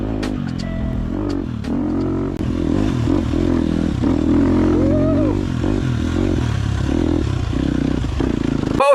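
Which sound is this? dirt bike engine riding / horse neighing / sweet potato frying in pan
dirt bike engine riding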